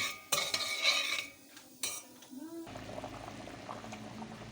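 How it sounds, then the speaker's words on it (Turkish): Vermicelli for pilaf is stirred in a pot until browned, with a few clinks and scrapes of a utensil against the pot, then a softer sizzle; fairly quiet. "Kızarana kadar karıştırıyoruz."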